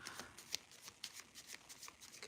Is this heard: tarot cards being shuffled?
yes